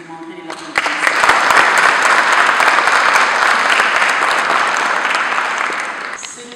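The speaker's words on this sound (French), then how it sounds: "Je vous demanderai de l'applaudir." Audience applause at a memorial tribute in Paris, a dense roomful of clapping that swells in abruptly, holds steady and loud for several seconds, then begins to thin toward the end.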